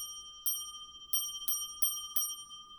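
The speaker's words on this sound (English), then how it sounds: "What I've added now is actually got these little bells for like a couple bucks a piece." Little inexpensive bells tapped one at a time, five bright ringing strikes in a loose uneven rhythm, each with a sustained metallic shimmer that decays between hits, close and fairly quiet over a steady faint hum.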